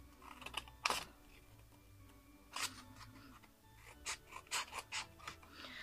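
Scissors snipping into the corner of a cardboard box while a handmade Advent calendar is being crafted, a few short crisp cuts and rasping rubs, close by and fairly quiet.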